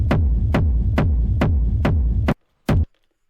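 A huge electronic kick drum with effects added, pounding loud and steady in five punchy, even hits. A gap follows, then one final hit.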